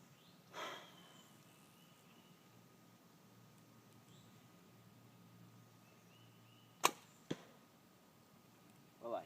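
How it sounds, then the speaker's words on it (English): An arrow from a Howard Hill longbow hits a deer target at 20 yards, two sharp quick impacts late in an otherwise quiet outdoor stretch, after a faint earlier rustle. "the arrow flew straight."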